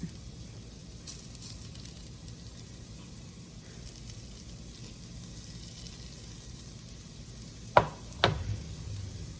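A second batch of beef browning in a pan, a soft, steady sizzle throughout, ending in two sharp clanks of a utensil near the end.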